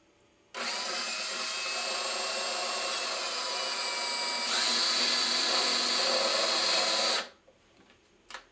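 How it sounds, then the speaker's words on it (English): A power drill with a 3/8-inch bit runs continuously for about six seconds through a metal can, its pitch shifting slightly midway, then stops, leaving a few faint clicks. "I'm going to use my drill here with a 3/8 drill bit, and I'm going to put it through the can."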